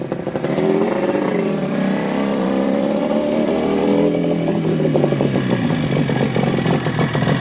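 A piped 1974 Yamaha RD350 two-stroke motorcycle with expansion pipes revving loud and close, its crackling ringing engine rising and falling in pitch through repeated throttle blips.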